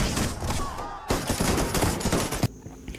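Dense volleys of rifle fire from soldiers shooting into a fleeing crowd at the 1919 Jallianwala Bagh massacre in Amritsar, sustained rapid crackling shots for about two and a half seconds, then stopping abruptly.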